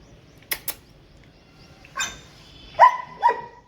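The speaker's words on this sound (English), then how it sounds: "You guys have a dog over here now." A dog of unknown friendliness, met at a roadside stop on a long camper journey in India, gives a few sharp barks, two quick ones first, then louder, closer barks a couple of seconds later.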